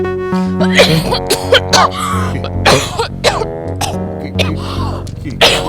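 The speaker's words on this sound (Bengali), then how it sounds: "আরে আমাকে দেখে কাশি চলে আসলো।" A woman coughs and clears her throat in several harsh, close bursts spread across a few seconds, with brief talk in between.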